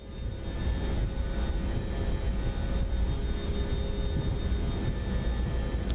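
Boeing 727-200F jet engines spooling at takeoff power in Microsoft Flight Simulator 2024, a loud continuous low roar with a faint steady whine over it and no speech.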